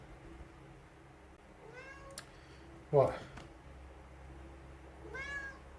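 A pet cat gives several close meows, short rising calls spaced a few seconds apart, with a brief thump and a voice speaking between them indoors.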